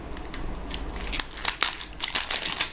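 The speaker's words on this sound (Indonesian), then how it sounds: "pakai gunting aja lah supaya cepet" Scissors snip and crinkle through plastic wrap around a Beaute Aroma Tokyo perfume box, giving a series of close, sharp cuts and rustles, several quick snips clustered toward the end.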